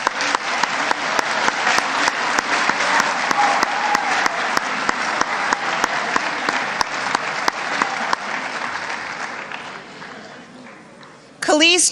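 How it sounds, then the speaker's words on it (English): An audience at a high school boosters award ceremony applauds honorees as they stand, dense sustained clapping that fades near the end before a voice comes in. "please rise so we can applaud for you"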